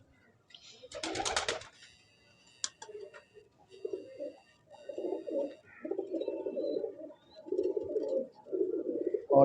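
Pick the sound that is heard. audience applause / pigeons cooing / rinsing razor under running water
pigeons cooing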